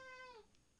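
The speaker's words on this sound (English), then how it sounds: "Is that my cat trying to get in?" A cat meows once close by, a short rising-then-falling tonal call, followed by faint quiet.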